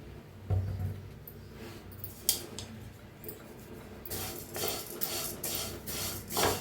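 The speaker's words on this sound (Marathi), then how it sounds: "पहिला आपण शेवाळ्या भाजून घेऊया थोडंसं तेल वतून भाजून घेऊया" Vermicelli roasting in a little oil in a hot kadhai is being stirred, with soft scraping and rubbing of the spoon against the metal and a few sharper clinks and louder scrapes toward the end, alone with no talk.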